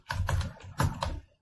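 Short run of keystrokes on a computer keyboard while a password is entered, with two quick pairs of close, fairly loud taps and no talking.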